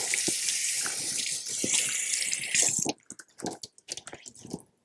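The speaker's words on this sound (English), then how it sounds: "I'm going to take my towel, I'm going to wet it." Water runs steadily from a tap onto an old cloth towel for about three seconds, then stops, followed by soft wet squishing and wringing sounds as the towel is handled.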